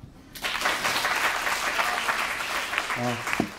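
Audience applause at a Korean education information session on essay exams, a steady dense wash of clapping from a hall full of people lasting a few seconds, with a brief voice near the end.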